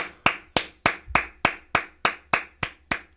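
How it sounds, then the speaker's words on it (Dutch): Hands clap in a steady, even rhythm, about ten sharp claps roughly a third of a second apart, close and crisp with no voices, in a Roblox gaming session. "Applaus."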